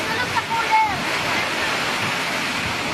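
Strong storm wind and heavy rain roar steadily over a night market in Davao City, a loud, continuous wash of noise with no break.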